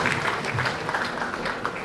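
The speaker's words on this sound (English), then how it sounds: "Give him a round of applause." An audience at the TOKEN2049 crypto conference in Singapore applauds Justin Sun, giving a brief, steady burst of crowd clapping at moderate loudness with a busy hall murmur underneath.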